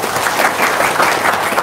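Audience applause at a talk, a brief burst of many hands clapping, dense and fairly loud, with no voices over it.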